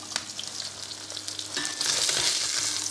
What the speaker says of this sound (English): And let this side sear.